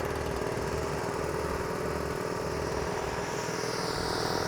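A Trailblazer 12 air compressor's small engine runs steadily just after starting, with a continuous, loud, rough mechanical drone and an even idle rumble close by.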